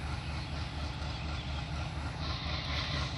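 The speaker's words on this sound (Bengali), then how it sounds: "এই যে আস্তে আস্তে ট্রেন আসতেছে" A train slowly nears along a railway line by the Pakshi Bridge, a steady low rumble and rolling drone holding at a constant level throughout, with no voices over it.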